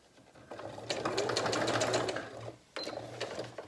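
A domestic sewing machine runs in two bursts, a fast rhythmic mechanical whir that pauses briefly and starts again as it backstitches at the end of a seam on a fabric tote bag, close and clear.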